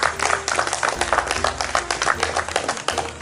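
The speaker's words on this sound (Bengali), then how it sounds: "জোরে একটা হাততালি" Brisk clapping from an audience greets the winner of a Chhau Bhumi talent contest who scored 140 marks, a dense patter of hand claps over low music throughout.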